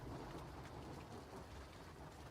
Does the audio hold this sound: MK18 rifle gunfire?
no